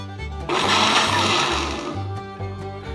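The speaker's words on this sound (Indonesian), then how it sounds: "Ya udah kita blender dia." A blender whirs loudly through an avocado ice cream mixture, its motor pulsing in steady bursts with a low rhythmic thump beneath a bright, continuous churning roar.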